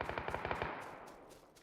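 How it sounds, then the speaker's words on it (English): Rapid automatic gunfire in an esports battle royale game match rattles off in a quick burst of about eight evenly spaced shots, then fades into a trailing echo and distant reports, with no talking. "We are receiving some gunshots."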